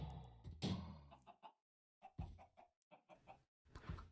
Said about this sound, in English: Don't get stuck in the chickens.